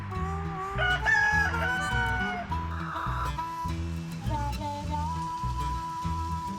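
A backyard flock of chickens, older hens together with younger birds, clucking steadily while a rooster crows repeatedly through it, close and fairly loud with no talking.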